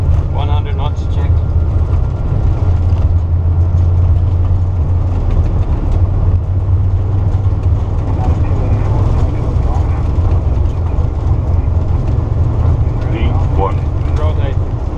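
An Airbus A330 on its takeoff roll at Newark, a loud, steady roar of jet engines droning continuously, heard from the flight deck with crew voices calling out over it.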